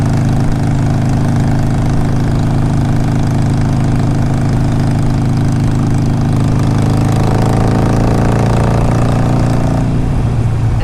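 A 2007 Harley Davidson 883R motorcycle engine drones loud and continuous while riding at steady speed, a deep throbbing rumble with wind noise and a slight change in pitch near the end.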